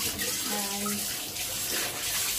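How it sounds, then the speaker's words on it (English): Tap water runs steadily while a cooker is rinsed at a sink, a continuous close splash lasting throughout, with a faint voice briefly in the background. "You just rinse your cooker."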